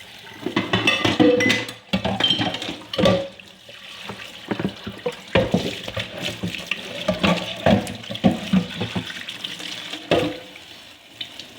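Water runs from a tap into a sink while a pot is washed out, with irregular splashing, gurgling and occasional clinks of the pot, close and fairly loud throughout.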